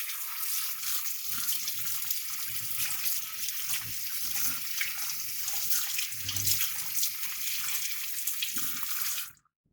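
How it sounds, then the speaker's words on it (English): Hot water runs steadily from a kitchen tap for nearly ten seconds, a close, even hiss and splash that shifts slightly as the stream hits a knife and cheesecake, then cuts off abruptly at the end. "Run some hot water over this real quick."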